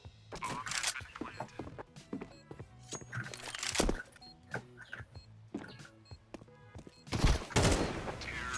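Counter-Strike 2 gunfire crackles in sharp, irregular bursts and single shots, some near and loud, mixed with clicks and game noise.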